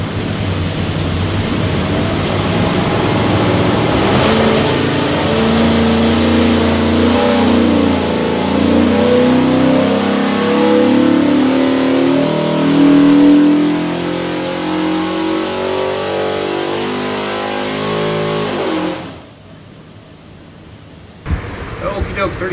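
A 493 HP 347 Ford stroker V8 on a dyno at Prestige Motorsports, a loud sustained roar climbing in pitch through a full pull, then dropping away abruptly to near silence near the end.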